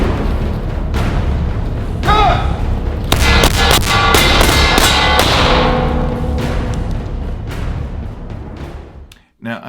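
A CZ P10c Suppressor Ready pistol fired in a rapid string of sharp, loud reports, several shots in quick succession with a ringing decay, fading out at the end.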